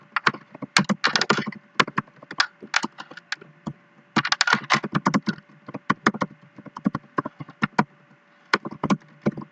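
Bursts of fast keystrokes on a computer keyboard while writing C++ code, close and crisp, coming in clustered runs with short pauses and no voice.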